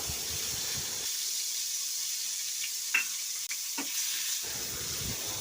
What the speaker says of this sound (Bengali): যতক্ষণ না পেঁয়াজের রং ধরছে ততক্ষণ পেঁয়াজটাকে ভাজতে হবে